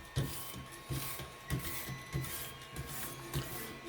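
Dalstrong kitchen knife drawn in pulling strokes across a Ruixin Pro 009 sharpener stone, giving a steady series of about six evenly spaced rasping swipes, close and moderately loud, with a faint steady hum beneath.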